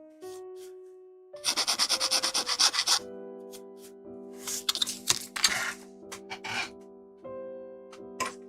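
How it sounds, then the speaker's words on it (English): A small plastic part from a 1/144 HG Bandai Gundam kit, Guel's Dilanza, gets polished. Rapid rhythmic rubbing strokes come in close bursts, with a faint tonal hum in the background. "Let's give this a quick polish here"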